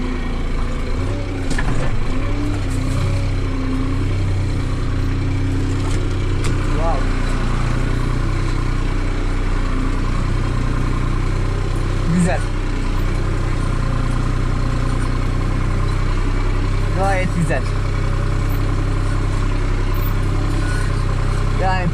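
A New Holland TT4.65 tractor engine fitted with a newly adjusted injection pump and exhaust runs steadily at a low throbbing idle, close and continuous, with someone talking over it now and then.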